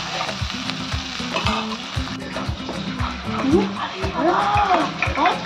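Chicken changazi masala frying in a pan, a loud close sizzle with rhythmic scraping and stirring strokes, while a person talks over the cooking.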